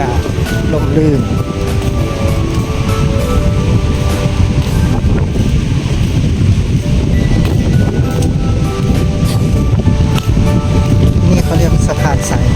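Wind gusts buffet the microphone on a wooden bridge along the Gulf of Thailand seashore, a constant rough rushing with faint surf beneath, while someone talks throughout.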